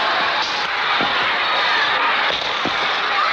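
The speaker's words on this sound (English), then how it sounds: "The sentries are firing their rifles over the heads of these people to keep them suppressed." Rifle shots fired by sentries over the heads of detained people at a deportation camp in Indonesia in 1967, heard as a few sharp cracks against a steady loud hiss of background noise.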